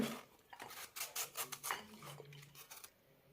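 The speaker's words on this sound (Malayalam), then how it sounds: "തോല് കളഞ്ഞ് ചെറുതായി മുറിച്ചെടുക്കാം" A knife chopping a peeled ridge gourd into small pieces on a board, a quiet series of uneven taps and scraping cuts in an irregular rhythm, alone without talk.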